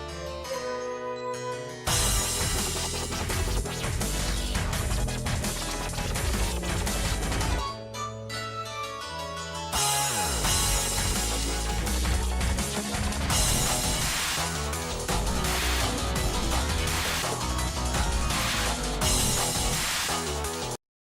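A dense, loud music track from the video game Killer is Dead plays throughout, full-band and driving, with a brief drop near two seconds and a quieter break around eight seconds before the full texture returns.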